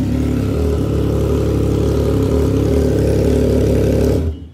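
A Triumph Trident 660 motorcycle fitted with a full exhaust system runs loudly and steadily close by, its engine note holding a deep, even throb before cutting off abruptly near the end.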